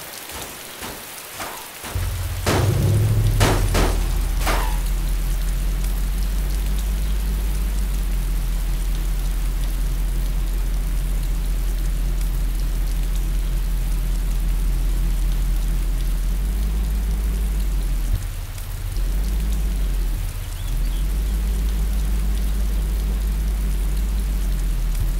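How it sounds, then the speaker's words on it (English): Steady heavy rain pours in the survival game Arma 2 DayZ, a loud constant hiss that begins after a few sharp clicks and holds for the rest of the stretch, with two brief dips. "it's fucking rain."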